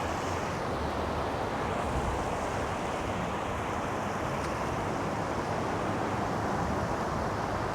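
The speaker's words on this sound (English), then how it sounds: "I don't know how windy it is, if you can hear me or not." Steady wind roars across the microphone while surf washes continuously in the background, loud and unbroken throughout, on the shore of the Elizabeth River.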